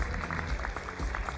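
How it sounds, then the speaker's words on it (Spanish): A crowd at a Mister Chile 2023 final claps steadily in a brief burst of applause, with no voices over it. "Un fuerte aplauso, por favor, para don Jaime."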